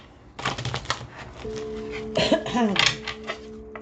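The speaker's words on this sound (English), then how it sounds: "I do want to give a little shuffle." A deck of tarot cards is shuffled up close in quick papery riffles and clicks, with a short murmuring vocal sound partway through.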